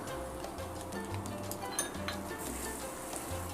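Tomato sauce being stirred into a vegan taco filling in a hot pan: steady sizzling throughout, with soft scraping and occasional light clinks from the utensil close by.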